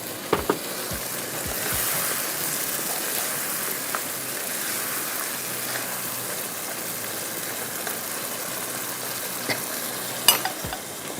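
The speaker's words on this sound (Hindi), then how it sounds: "पहले हम इसमें डालेंगे ये गोश्त" Mutton frying in oil and masala inside a handi, stirred continuously: a steady close sizzle with a scraping undertone and a few sharp clicks of the spoon against the pot, no voices.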